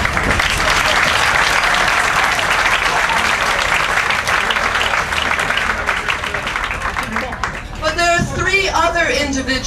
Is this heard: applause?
yes